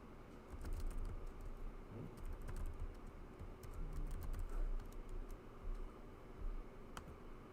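Keys tapped on a computer keyboard as a name is entered, a steady run of quick, soft clicks under a low background hum, fairly close.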